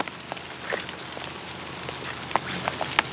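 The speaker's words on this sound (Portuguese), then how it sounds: "Uma fina chuva caindo sobre o sertão seco." Light, fine rain falls on the dry sertão backcountry in mid-September spring, a soft, steady patter with a few sharper close drops standing out near the end.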